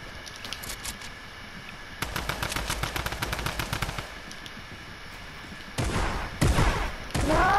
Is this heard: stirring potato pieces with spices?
no